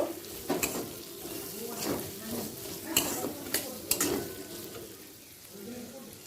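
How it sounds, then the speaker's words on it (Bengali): Chopped garlic, onion and green chillies frying in oil in a pan, a soft steady sizzle with a few sharp spatula scrapes and taps against the pan. "কুচিয়ে রাখা রসুন পেঁয়াজ কাঁচা লঙ্কা এক মিনিট তেলের সাথে ভেজে নেব"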